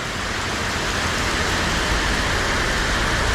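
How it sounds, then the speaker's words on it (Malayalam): Heavy rain pours steadily in a dense, even roar on a road trip by BMW, close and loud throughout with no voices. "നല്ല തുള്ളി മുരത മഴ"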